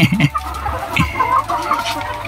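Ready-to-lay hens on a hot-season egg farm cluck close by in short, bunched calls over a steady farm background.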